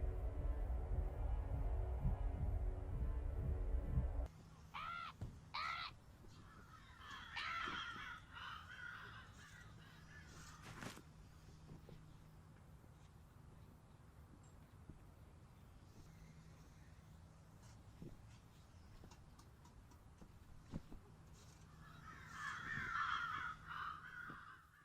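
A crow caws at Everest base camp in a virtual reality climbing game. A few harsh calls come early and more return near the end, moderately distant over quiet wind and ambient noise.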